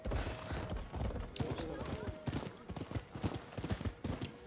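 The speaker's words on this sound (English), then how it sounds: "I just whistle for the horse." Horse hooves from the video game Rise of the Ronin, a rapid clip-clop of galloping hooves close by, moderately quiet, with talk over the top.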